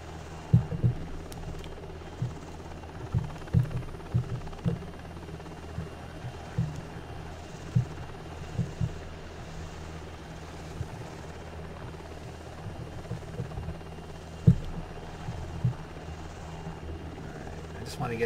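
An MH-60 military helicopter flies in the Prepar3D flight simulator at NAS Fallon, a steady low rotor drone that runs throughout with scattered faint clicks and thumps.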